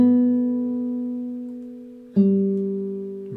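Solo classical guitar plays a slow, simple melody over three bars, the picked notes crossing between strings and ringing into each other, with a clear new attack about two thirds of the way through.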